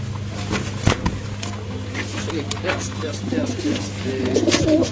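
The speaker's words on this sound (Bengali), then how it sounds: "দেখেন এই যে কবুতর, এই যে মাশাআল্লাহ।" Domestic pigeons kept for breeding and sale in Mirpur, Dhaka coo repeatedly, soft low throaty calls close by over a constant background hum with occasional rustles and clicks.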